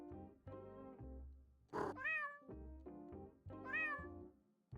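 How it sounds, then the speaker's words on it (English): A cat in the video game Judge Simulator meows twice, close and clear, with a rising then falling call each time, set against a steady low hum of background game music. "Yes, you can pet the kitty."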